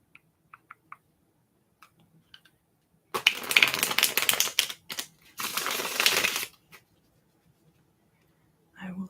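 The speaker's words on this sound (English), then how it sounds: "Just wait there patiently while I shuffle the cards." Tarot cards shuffled close to the microphone in a quiet ASMR setting: two bursts of crisp riffling and flapping, each a second or so long, separated by a short pause, with faint taps before and after.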